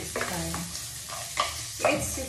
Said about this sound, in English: I need to fry also the beef